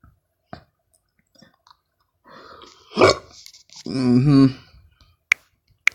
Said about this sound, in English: sorry about that burp